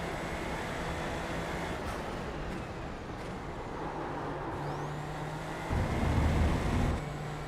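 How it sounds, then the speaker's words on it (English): Race car engine in a sim racing video game, a steady droning whine with a low rumbling swell near the end, heard continuously at moderate loudness. "I like how this car sounds like a washing machine on spin cycle"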